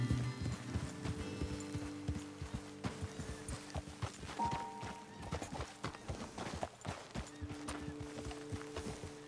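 A horse's hooves clip-clop at a steady walking pace across the ground in Red Dead Redemption 2, close and distinct, with an occasional snort or whinny and faint ambient tones behind.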